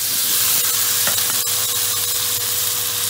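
Chinese spring rolls frying in a little oil, giving a steady, close sizzling hiss that runs unbroken throughout, with a few faint clicks and taps of utensils underneath.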